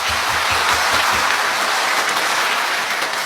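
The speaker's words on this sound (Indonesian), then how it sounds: "Tepuk tangan." Audience applause at a talk on Indonesia, a steady dense clapping texture carried at moderate loudness throughout with no talk over it.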